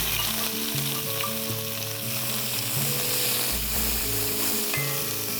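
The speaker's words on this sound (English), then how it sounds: "let's saute these onions to a beautiful golden brown color." Sliced onions sauté in hot oil with bay leaves, anise and other whole spices, giving a steady, close sizzle and crackle over soft background music.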